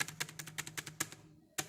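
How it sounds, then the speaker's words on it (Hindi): Keystrokes on an HP GK400F mechanical gaming keyboard, about nine crisp clacks in an even quick rhythm, then a short pause and one final sharp press, close and clear with no talking. "वॉइस आपको सुना देता हूँ कुछ टाइप करके, कैसी इसकी वॉइस आती है।"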